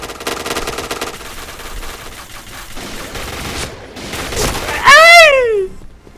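Cheytac M200 sniper rifle fire in Point Blank, heard as a rapid series of loud gunshot cracks with game sound effects around them and a rising chime near the end, while a player talks.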